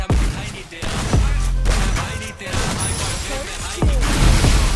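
Gunfire in a shooter game match, loud and dense, with repeated heavy shots and thumps packed over a constant roar of game noise, all close and rarely letting up.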